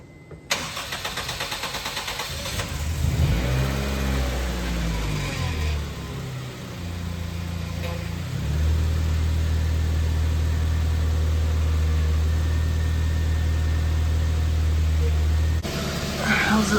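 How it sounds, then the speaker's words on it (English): A 2004 Honda Civic engine cranks, starts and settles into a steady idle nearby, with its power steering pump running after a hose replacement. "the power steering pump is a lot quieter, and all I did was replace the hose."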